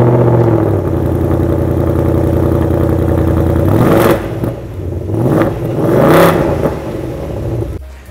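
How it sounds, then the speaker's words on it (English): Seventh-generation Ford Mustang GT Premium with active-valve quad exhaust pipes, a deep steady idle rumble giving way to two sharp revs that rise and fall, loud and close with no voices. "we have a set of quad exhaust pipes, which I'm pretty sure you wanna hear, so here's a sound bite"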